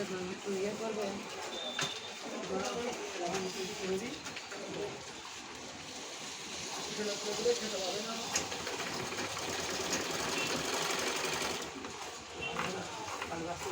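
A sewing machine stitching a bag hums continuously under steady nearby talk, with pigeons cooing in the background.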